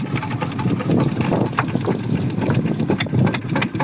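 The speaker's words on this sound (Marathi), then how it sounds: "इंजिन चालू झालेले आहे" A small fishing boat's engine runs at sea, a steady mid-pitched putter with rapid regular pulses, moderately loud and close, with sharp clicks and knocks scattered over it and no speech.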